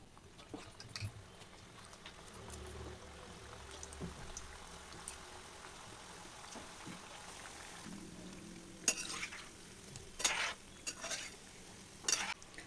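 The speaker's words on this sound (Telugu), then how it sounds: "రెండోసారి వేసిన కూడా ఆయిల్లో మంచిగా ఫ్రై అయిపోయాయి" Wheat flour snacks fry quietly in oil, giving a faint, steady bubbling sizzle. Occasional sharp clinks and scrapes of a utensil against the pan break through.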